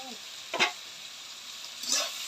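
Okra fries in a pan, giving a soft steady sizzle with two brief louder bursts of stirring or crackling spread across a couple of seconds.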